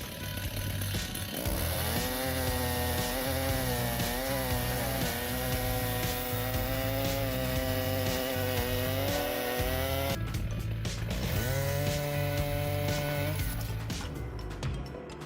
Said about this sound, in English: With the perfect combination of men and modern saws with speed and precision, the old oak log was processed in a short period of time.